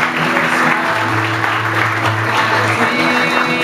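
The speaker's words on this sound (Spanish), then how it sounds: "El aplauso a Edgar Morales" Loud, steady applause fills a year-end dinner hall as a crowd claps continuously, dense and even throughout, with a low musical hum beneath.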